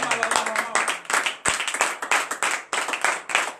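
A congregation at a morning prayer service in Benin claps rhythmically and shouts in acclamation, the clapping loud and close with voices calling out over it.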